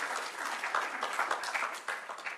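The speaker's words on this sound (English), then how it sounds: "Could we get a round of applause for that?" A room of people at a nonprofit funding gathering gives a short, continuous round of clapping, the close patter of many hands holding steady throughout.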